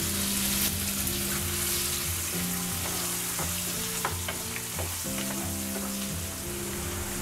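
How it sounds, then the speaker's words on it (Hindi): One finely chopped onion fries in oil with cumin for cauliflower kofta curry, a steady loud sizzle with occasional stirring scrapes and background music. "बीच बीच में चलाते हुए प्याज को अच्छा गोल्डन ब्राउन होने तक भूनेंगे।"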